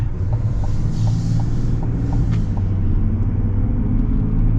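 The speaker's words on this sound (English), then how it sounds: "It's got the diesel grunt too. And it's just a cool sound overall." Duramax diesel engine of a 2024 GMC Sierra AT4X AEV pickup rumbling while driving, a loud, steady low drone with faint ticking on top, heard from inside the cab with no talking.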